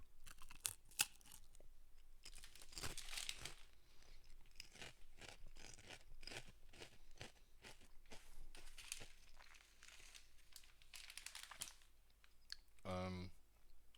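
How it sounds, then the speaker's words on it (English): Crunchy chips being eaten close up, with sharp, irregular crunches and crinkling bites scattered across the stretch over a quiet background. "you aren't plagued by the crunchiness of these chips"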